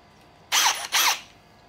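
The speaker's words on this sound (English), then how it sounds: "so I'm gonna take one of my drills" A handheld power drill in a home workshop, used for modifying an Inventables X-Carve Pro CNC machine, gives two brief, loud whirring bursts close by, separated by a short pause.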